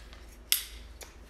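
A single sharp scissors snip cuts material for a homemade butterfly habitat, followed by a fainter second cut about half a second later, close and otherwise quiet.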